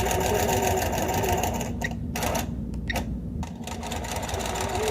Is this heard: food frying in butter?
no